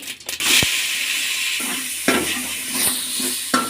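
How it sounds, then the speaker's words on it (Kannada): Onions frying in oil in a pot on the stove, a steady sizzle broken by several sharp clinks and scrapes of a stirring spoon against the metal, with no voices. "ಈರುಳ್ಳಿ ಫ್ರೈ ಆಗಲಿ ಎಣ್ಣೆಯಲ್ಲಿ"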